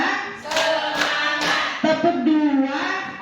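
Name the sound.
group clapping a three-beat clap pattern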